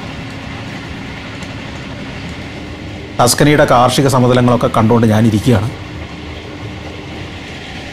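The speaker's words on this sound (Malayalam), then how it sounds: "ട്രെയിൻ പിസയോടടുത്തു." A train rolls through the farmland of Tuscany toward Pisa, a steady carriage rumble heard from inside, with someone speaking over it midway.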